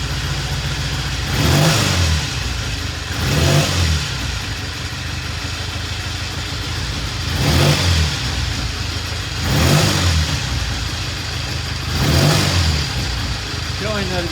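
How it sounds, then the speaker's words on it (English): A Triumph 350cc 3TA motorcycle engine revs up in repeated bursts, five or so surges roughly two seconds apart over a steady idle, loud and close. "you'll see it flare when I rev up the engine"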